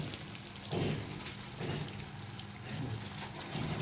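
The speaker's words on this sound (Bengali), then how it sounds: "এবার দিয়ে দিচ্ছি 1 কাপ জল" A cup of water is poured into a pot of simmering Kashmiri dum aloo, giving a close, soft gushing splash in several surges over a faint sizzling background.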